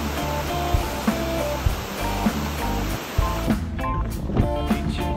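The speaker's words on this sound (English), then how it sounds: "Or you can see the road behind me, water flowing across it." Rainwater pours across a road in West Oahu, Hawaii, after more than a week of heavy rain, a loud, continuous rushing wash of water close by.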